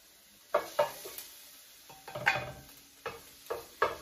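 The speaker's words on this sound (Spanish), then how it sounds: "Vamos a agregar el ajo primero." Garlic going into oil in a saucepan, with a light sizzle under sharp spoon clinks and stirring scrapes against the pan, close and intermittent.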